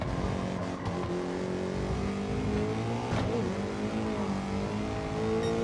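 Race car lapping a track in Gran Turismo 7, engine droning steadily with rising and falling revs through gear changes and brief tire squeal, loud and continuous with no talk.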